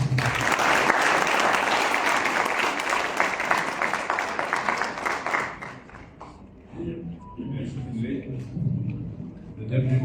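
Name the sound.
audience applause for Prime Minister Navin Ramgoolam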